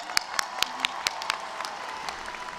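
Crowd at a Sam Houston State University spring commencement applauding the new graduates, steady massed clapping with a few sharp nearby claps standing out above it.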